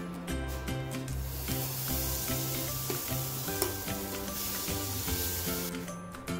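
Mudakathan keerai dosa batter sizzling steadily on a hot pan, a continuous close hiss and crackle heard under layered background music with no talk.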